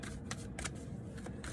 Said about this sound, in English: I always pre-shuffle off camera, and I like to give it a shuffle on camera